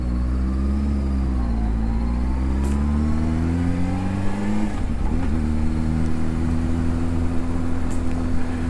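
A Honda CBR600RR motorcycle engine hums steadily while riding in traffic, its pitch rising and falling with throttle changes and a brief dip near the middle, with wind rush throughout and no talking.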